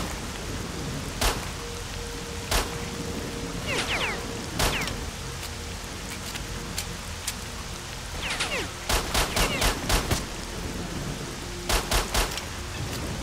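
Gunfire in the shooter game Stalker: Shadow of Chernobyl comes as sharp, loud shots, single cracks spaced apart and then quick bursts of several rounds, over a steady background hiss.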